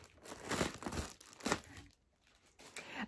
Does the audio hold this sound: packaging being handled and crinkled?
yes